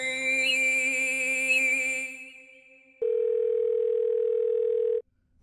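A phone call being placed: a tonal melodic phone signal plays for about two seconds, then after a short gap a steady electronic ringback tone sounds for two seconds and cuts off.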